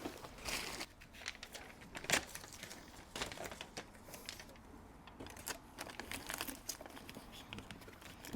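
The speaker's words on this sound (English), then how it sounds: "I'm going to get a little one wide piece, one single width of the tape, just to get it to sit tight to this flange." Insulation tape on an HVAC supply duct being pulled off the roll and pressed onto the flange, giving quiet, close crinkling, tearing and smoothing noises in irregular bursts.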